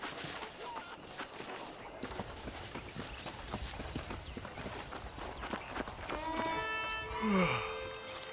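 Horse hooves clip-clop at a steady walking rhythm in the Western video game Red Dead Redemption, mid-distance and moderate, with a brief rising tonal swell of game score near the end.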